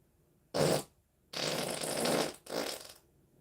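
Three loud close-up farts in quick succession on a late-night live stream: a short burst, a longer sputtering one, then a final shorter blast, with near silence between.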